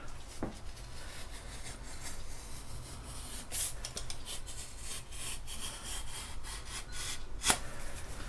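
A telescope tube segment is scored and cut on a table with a steady rubbing, sawing-like scrape, broken by a couple of sharp clicks or snaps, close and fairly quiet.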